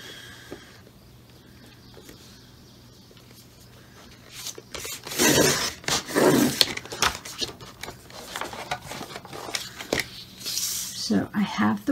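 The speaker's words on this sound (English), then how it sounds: "I'm simply going to cut them into strips" Scissors snip through cream-colored cardstock, cutting it into strips: quiet at first, then a run of crisp, close cutting and paper rustles in bursts, with a voice speaking softly at times.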